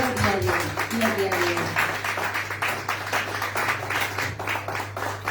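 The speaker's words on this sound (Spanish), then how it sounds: "¿Cuántos le dan un aplauso al Señor?" A church congregation claps in a steady, rhythmic wave, with a voice and a low sustained musical tone running underneath.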